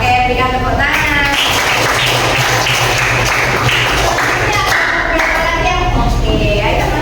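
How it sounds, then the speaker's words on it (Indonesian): Students in a classroom clap for a presenting group, a dense patter of hands running steadily throughout, mixed with voices and chatter. "Oke, berikan tepuk tangan."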